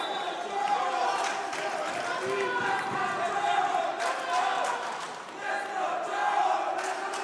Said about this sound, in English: As you can hear, the crowds are behind both fighters.